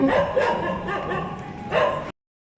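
Several dogs barking and yipping close by in a busy outdoor spot, steady overlapping barks with a louder burst near the end before cutting off.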